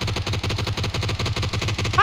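Rapid automatic gunfire from the battle royale game PUBG rattles in steady, evenly spaced bursts for a couple of seconds, loud and close.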